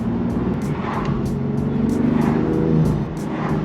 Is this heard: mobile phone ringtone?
no